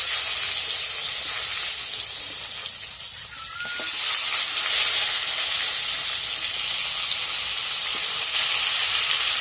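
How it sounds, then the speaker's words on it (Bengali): Small, soft whole brinjals with their stems frying in oil in a kadai give a steady, loud sizzle and hiss, with a faint clink partway through and no voices. "আমি বেগুনগুলো কড়াইয়ের মধ্যে দিয়ে দিচ্ছি"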